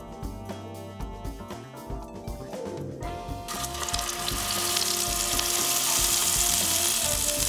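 A burger patty sizzles loudly in a frying pan, the hiss swelling and staying steady and bright after a few clattering sounds.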